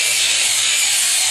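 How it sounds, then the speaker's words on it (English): Power tool grinding bevels into the bow of a wooden boat hull, a brief, loud, steady abrasive whine close by. "I'm grinding away at this part"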